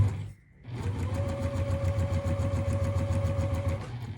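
Juki sewing machine sewing fabric at a slow, steady pace, a close, continuous motorized hum with a rhythmic mechanical stitching pulse after a brief pause at the start.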